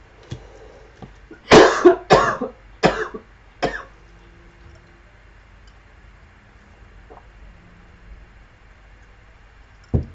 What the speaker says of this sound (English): Have I not been dealing with this cough for months now?